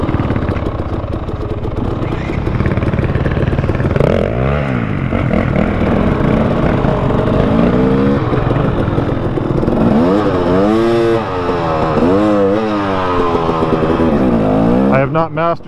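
A 2018 Husqvarna TX300 dirt bike engine drones continuously while being ridden, rising and falling in pitch with throttle changes, loud and close, with a rider talking over it.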